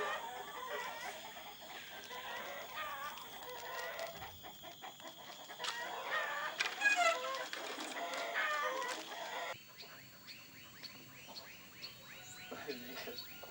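Chickens in a rural Amazon yard near Tefe cluck and murmur in busy overlapping bursts, with occasional crowing and some soft background voices, fading to quieter scattered clucks toward the end.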